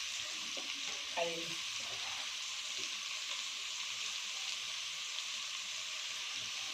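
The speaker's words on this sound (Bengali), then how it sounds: "আগে তো ভাজা লঙ্কা ফেলে দেবো" Chilies fry in hot oil with a steady, close, bright sizzle throughout, while a few soft stirring knocks and a faint voice sound early on.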